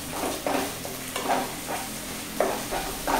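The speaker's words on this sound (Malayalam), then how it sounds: "ഞാൻ നല്ലപോലെ ഇളക്കി" Egg being stirred in a frying pan for padavalanga fugath, a spatula scraping in several rhythmic strokes over a soft steady sizzle, close and clear with no talk.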